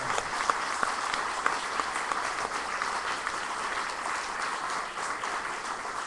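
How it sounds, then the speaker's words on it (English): A seminar audience gives steady, sustained applause for a science speaker, a dense wash of clapping that holds at an even level throughout with no talking over it. "a round of applause once more for Dr. Rodrigues"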